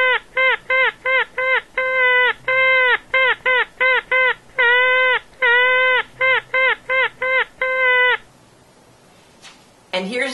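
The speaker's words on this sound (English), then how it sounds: "here I am playing it on a straw" A drinking straw blown as a homemade woodwind honks out a rhythm of reedy, buzzing notes, clusters of short bursts alternating with longer held tones, loud and close, then a brief quiet gap and a rustle at the end.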